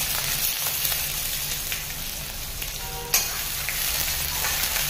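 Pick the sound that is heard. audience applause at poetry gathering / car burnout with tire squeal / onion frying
onion frying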